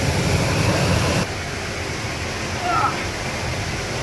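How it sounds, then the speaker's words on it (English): Rushing river water roars as broadband noise, loud and close in the first second, then steadier and slightly softer, with a brief faint tonal sound near the end. "the water, it's so noisy"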